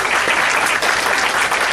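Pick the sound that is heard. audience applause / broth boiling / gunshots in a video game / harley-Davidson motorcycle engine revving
audience applause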